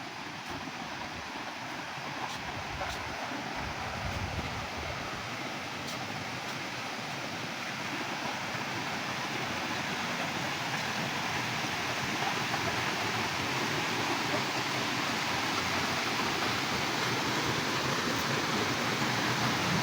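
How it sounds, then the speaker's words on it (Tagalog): A clear underground river in Lussok Cave, Apayao, rushes steadily in a dense, unbroken water hiss that holds at an even level throughout, with no voices. "isang umaagos na ilog na napakalinis ng tubig"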